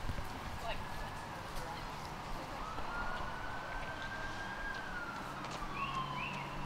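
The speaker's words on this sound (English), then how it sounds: "You got the sirens in the background" A siren wails faintly in the distance on a golf course, its pitch slowly rising and falling beneath steady outdoor ambience and some low murmuring.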